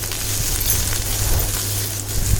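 Onion, ginger and green chillies sauté steadily in a pan for a Madurai-style chutney, giving a continuous close, fairly loud sizzle with a low hum beneath and no voices.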